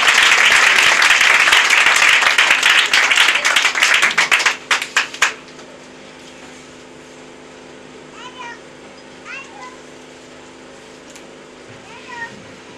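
A church congregation gives Papa Fanou a burst of loud applause that thins into a few scattered claps and stops, leaving a quiet room with faint squeaky sounds.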